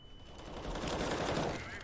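Rapid bursts of automatic gunfire in a competitive first-person shooter match, dense and loud, with a player's voice heard over the shooting.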